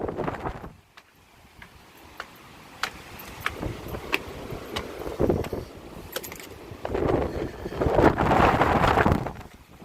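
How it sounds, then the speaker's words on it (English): Gusty wind at Folly Beach, South Carolina, ahead of Hurricane Dorian, buffets the microphone in uneven bursts, swelling loudly near the end, with scattered light ticks and clinks in between. "Oh, it is windy."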